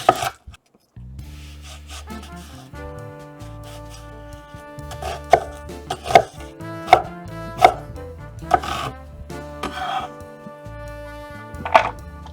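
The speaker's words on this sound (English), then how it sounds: "we also are gonna need a small onion finely chopped" A knife chops a white onion on a cutting board at home, with irregular sharp thunks spaced a second or so apart over a soft background hum, close up.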